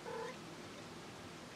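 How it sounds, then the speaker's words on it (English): A house cat meows indoors: one short, clear meow right at the start, then only a steady low room hum. "Let's ignore the cat, which has decided to come in right now."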